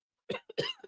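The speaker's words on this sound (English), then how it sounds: "Hang on, I'm gonna cough." A man coughs a few times in quick succession, close and fairly quiet, in short harsh bursts separated by brief gaps.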